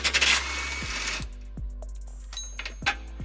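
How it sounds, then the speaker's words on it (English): Bumper bracket bolts on a 2005 Nissan Xterra are removed with a 19mm socket, a short loud burst of a power tool whirring, followed by quieter metallic clicks and ratcheting taps, no talking. "to remove those we're going to be using a 19mm socket"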